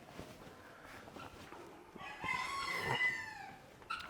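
A rooster crows once, fairly loud and drawn out, on a farm where fowl are kept in cages, preceded by faint clucks and scattered background noise.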